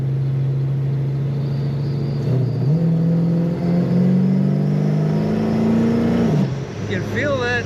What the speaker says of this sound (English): Very fun to hit the accelerator in this car.